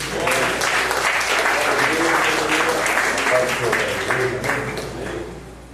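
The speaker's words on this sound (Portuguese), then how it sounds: "palmas para Jesus." Sustained applause from a church congregation, dense and steady clapping filling the room for several seconds before easing slightly at the end, with faint voices mixed in.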